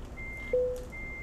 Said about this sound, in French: Hop, on va enlever le bip